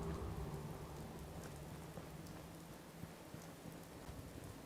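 Steady rainfall with distant low thunder in the Fallout 4 video game, a soft continuous patter of rain on surfaces with faint low rumbles underneath, no voices.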